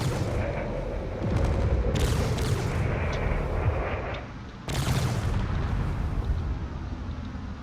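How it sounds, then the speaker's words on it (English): Cannon fire rages in a video game space battle against pirates: dense, loud, continuous booming that briefly dips near the middle before surging back. "Of course, there's a lot of cannon fire."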